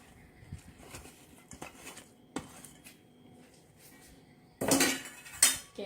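Broccoli chicken salad with raisins and thinly sliced apples being stirred in a bowl, with soft scraping and clinking of a utensil building to two louder clattering bursts near the end.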